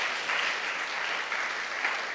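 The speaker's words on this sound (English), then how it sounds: "Can we give a big round of applause to these two people who gave us this opportunity, who created it?" Steady, dense audience applause at a motivational speaking event, a close wash of clapping hands that holds evenly for the whole stretch without a break.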